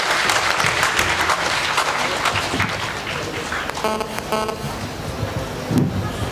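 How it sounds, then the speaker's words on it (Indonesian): Audience applause at a university public lecture on nationhood and technology, welcoming a guest speaker from the Indonesian railway manufacturer PT INKA; steady, dense clapping throughout, with some murmuring mixed in and no clear speech. "Tepuk tangan buat beliau."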